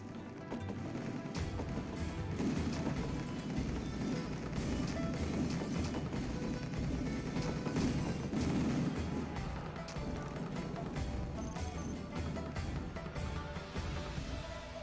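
An artillery bombardment in the strategy video game Rise of Nations produces continuous dense, rumbling booms and crackling impacts that run steadily for about fifteen seconds, with no voices heard.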